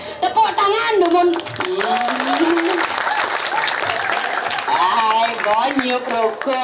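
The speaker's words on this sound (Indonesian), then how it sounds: "Tepuk tangan, Dumun." An audience at a Balinese calonarang temple performance applauds in a sustained wash of clapping, while voices and a child's speech carry on over it throughout.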